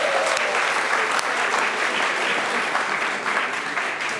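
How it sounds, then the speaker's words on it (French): An audience at a college science competition applauds a contestant, sustained loud clapping and cheering that stays even for several seconds. "Et on applaudit!"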